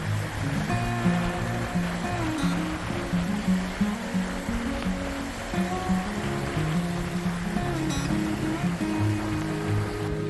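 Rushing creek water churns and splashes continuously as a vehicle fords a river crossing, with engine drone underneath and no clear talk.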